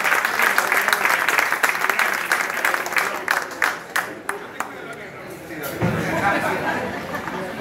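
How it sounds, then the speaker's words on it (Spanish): Crowd at a blues gig in Argentina applauding the bands, dense clapping with chatter that thins into scattered individual claps, then swells back into murmuring crowd noise, recorded close on a phone. "un fuerte aplauso para ellos y para todas las bandas que han tocado"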